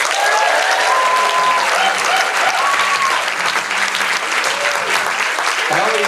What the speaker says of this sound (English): start clapping out, put your hands together for Brad Quinlan